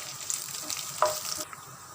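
Garlic and long-cut green chillies sizzle in a hot pan while crispy potato 65 is prepared, a short burst of steady frying crackle with a brief stir, close and moderately quiet, with no speech.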